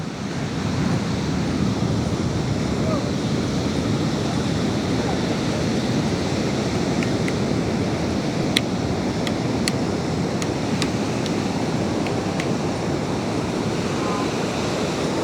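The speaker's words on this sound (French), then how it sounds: "Ah, il y a vraiment des belles vagues." Sea waves breaking on a shore, a continuous loud roar of surf mixed with wind buffeting the microphone, steady throughout with a few faint clicks.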